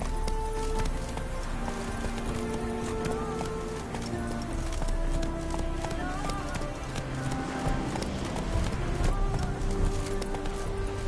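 The horse Roach gallops in a video game, with a steady rhythmic clip-clop of hooves throughout under a musical score. Voices talk over part of it.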